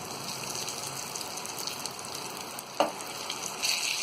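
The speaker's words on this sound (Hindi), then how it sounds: "तो इसी तेल में पीसों को भी फ्राई कर लेंगे।" Breaded chicken pieces deep-fry in hot oil in a wok, a loud continuous sizzle with a single sharp crackle midway.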